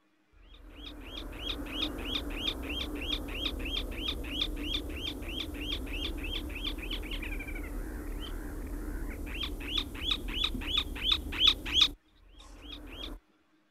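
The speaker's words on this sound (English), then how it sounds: "This is a semi-palmate plover." Semipalmated plover calling, a fast run of sharp, clear two-note whistled chirps repeated steadily for about twelve seconds, briefly blurring mid-way, then a few final calls after a cut; fairly close and alone with no talking.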